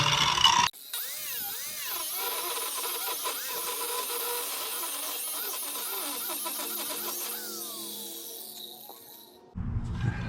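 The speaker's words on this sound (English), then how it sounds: "Sounds like it's slugging my grinder down a little bit here." An angle grinder with a cutoff wheel cuts metal on a Jeep, a loud continuous whine whose pitch wavers and sags as the wheel bogs under load, then the grinder cuts out before the noise resumes.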